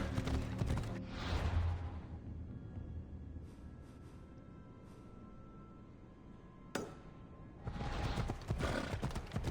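A horse in the video game Assassin's Creed Odyssey trots with steady clip-clopping hooves and whinnies. The sound is loud at the start, drops to quieter hoofbeats in the middle, then swells again near the end.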